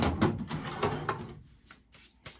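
Empty drawers in a lakeside cabin are pulled open one after another, giving a series of close wooden slides and knocks that grow quieter and more spaced out toward the end.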